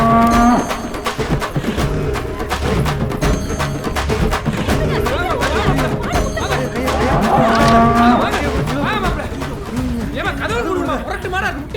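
Cattle mooing, several long lowing calls rising over constant chatter and background music, with people talking throughout.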